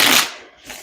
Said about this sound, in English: we'll give it one more shuffle for my Aries